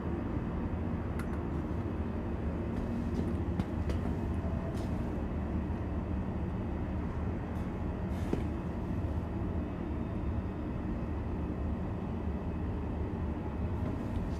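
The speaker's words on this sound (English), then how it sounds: "Capsule now approaching station." Capsule tram arriving at a station in the Star Citizen video game, a steady close rolling rumble with faint clicks and a few brief high squeaks, no talking.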